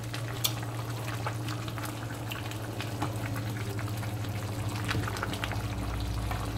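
Egg cooking in a pan of spicy chicken stew with lots of chilli, a steady bubbling sizzle with scattered pops and crackles, fairly close, no talk over it.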